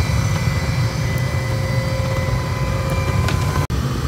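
A burner roars steadily inside a reverberatory tilting hearth furnace, a loud broadband rush with a faint tonal hum beneath it. It stays continuous and even, breaking only once for a brief moment.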